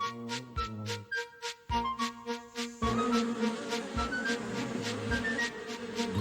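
Bees buzz in close, tonal drones that rise and fall, several overlapping with brief gaps, set against a soft musical backdrop.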